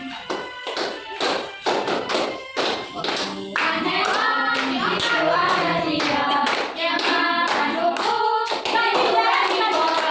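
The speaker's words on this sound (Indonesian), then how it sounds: "Tepuk tangannya biar lagi sama." Children clap their hands together in a classroom, a quick run of sharp, rhythmic claps close by that gives way to a denser stretch of voices and clapping.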